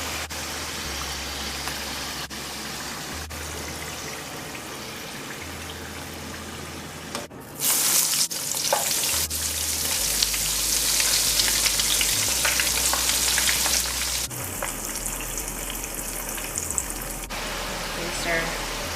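French fries frying in hot oil, a steady close hiss and crackle that swells louder partway through, with low hum and brief clatter of handling.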